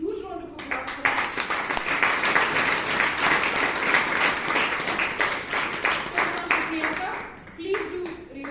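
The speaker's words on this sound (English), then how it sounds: "I think she deserves a huge round of applause for that." Applause at a Toastmasters club meeting in Bangalore, dense steady clapping from a room full of people lasting several seconds, loud and close, tapering off at the end.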